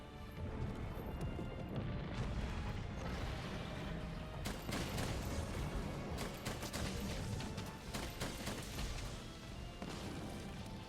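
A Wyvern Blast explodes during a Monster Hunter World hunt, with a dense run of loud crashing impacts and sharp bursts over rumbling game noise, several strong hits landing in quick succession.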